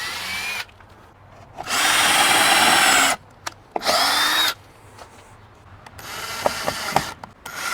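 A power drill drives screws to mount window boxes, two loud whirring bursts of about a second each separated by quiet, then scattered clicks and a brief rev near the end.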